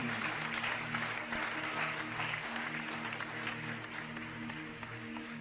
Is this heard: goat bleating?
no